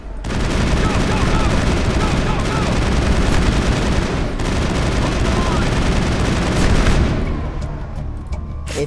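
Sustained, loud gunfire from a Mass Effect firefight, dense overlapping shots and booms rattling on for about seven seconds before cutting off, with faint voices mixed in.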